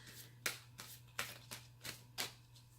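Large tarot-style reading cards being shuffled in a handful of bursts, each a crisp papery riffle, close up, over a steady low hum.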